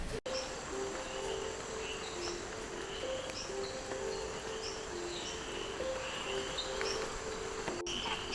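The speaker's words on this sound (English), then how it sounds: "It's a tree frog." Tree frog calling in a hot Costa Rican forest near a waterfall trail, a steady chirping chorus of repeated short notes running throughout, fairly close, with insect-like trills layered over constant background hiss and no talk.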